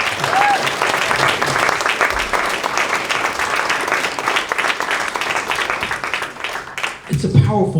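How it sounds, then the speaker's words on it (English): Sustained audience applause and cheering at an outdoor tenants' rally in Echo Park, steady clapping from a large crowd throughout, easing off toward the end as a few voices emerge. "Give one more round of applause for the pizza."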